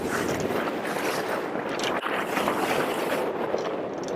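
A sailboat motors across the Gulf Stream on open water, with a steady rushing wash of wind and waves against the hull that stays loud and continuous with no voices.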